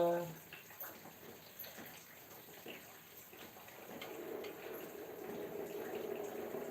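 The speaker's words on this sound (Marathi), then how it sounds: "पावसाचा आवाज येतोय का" Rain falls and runs as a soft, steady wash of water that grows fuller toward the end, faint and distant, with a voice briefly heard early on.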